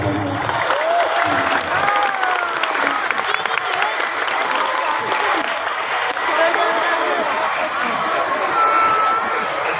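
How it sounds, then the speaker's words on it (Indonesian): Crowd clapping during an Isra Mi'raj gathering in a mosque, continuous applause with some cheering and voices over it, steady and fairly loud throughout. "Tolong dikurangi tepuk tangannya, ini di masjid, ini di masjid."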